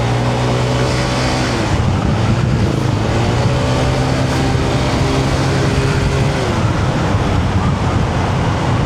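Honda ADV 160 scooter with an upgraded CVT pulls away in sport mode, its engine drone climbing in pitch through two close, loud acceleration runs over road and wind rush.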